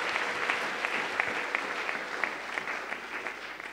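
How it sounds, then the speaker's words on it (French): A church congregation claps together in steady, sustained applause, a dense close wash of hand claps filling the room without pause. "J'aimerais qu'on acclame la parole du Seigneur."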